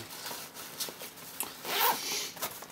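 A zipper on a camera bag pouch is pulled open in several quick, close rasping strokes, quiet and alone.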